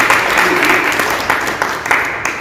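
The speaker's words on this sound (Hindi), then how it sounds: "बहुत ही अच्छा, एक बार फिर से जोरदार ताली।" Audience applause for a speaker at a Jain women's federation knowledge seminar in Vidisha, a steady dense wash of clapping with a few louder accents, fairly close and sustained throughout.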